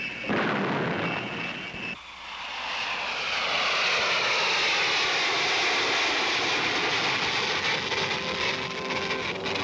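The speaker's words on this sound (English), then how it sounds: "he test flies airplanes such as the world's fastest jet aircraft, the Lockheed SR-71" A Lockheed SR-71 jet aircraft roars during a test flight, a loud, sustained rushing engine noise that swells after a brief dip and holds at full strength, with a sweeping high whine layered on top.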